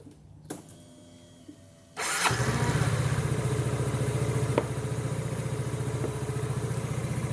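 After some quiet handling noises, a Yamaha Filano scooter engine starts up after a CVT air filter change and runs at a steady, pulsing idle, close by and fairly loud.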